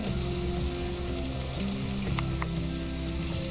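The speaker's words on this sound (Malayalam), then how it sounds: "ഇത് നല്ലതുപോലെ ഒന്ന് വഴറ്റാം" Crushed ginger, garlic and fennel sauté in hot oil in a pan, giving a loud, continuous close-up sizzle with faint stirring clicks.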